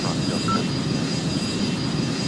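Boeing 767 jet engines running on the runway in the Airline Commander flight game, a steady loud droning roar with a faint high whine, alone without talk.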